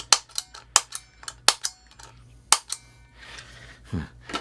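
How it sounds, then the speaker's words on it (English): Sharp, close clicks of an Electro-Harmonix Pulsar tremolo pedal's soft-touch footswitch, about a dozen in irregular succession, each a crisp snap with brief quiet between. "the foot switch is now a soft touch, so we can engage it like this"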